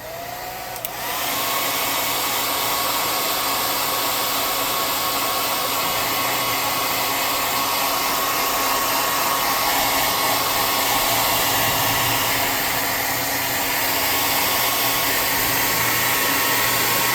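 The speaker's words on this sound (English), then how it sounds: "let's dry this off with some hot air." Hot air blower drying paint on a tabletop miniature bog giant, a loud, steady, close whoosh and motor whine that starts after a second and runs unbroken on its own.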